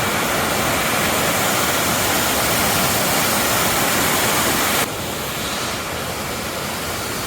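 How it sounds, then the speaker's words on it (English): A waterfall roars beside a new trail bridge on a hike from Snoqualmie to Leavenworth, a loud, steady rush of falling water close by. The roar drops to a slightly softer level partway through. "It's a beautiful looking waterfall."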